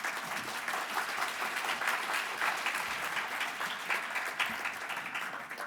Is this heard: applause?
yes